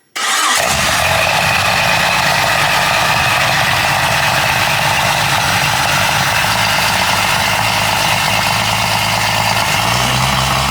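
Jeep 5.0 stroker engine on its first start, catching almost at once, then running continuously and loud at a steady, rough idle close by, with no talk over it.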